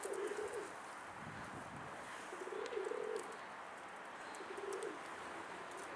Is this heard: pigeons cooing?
yes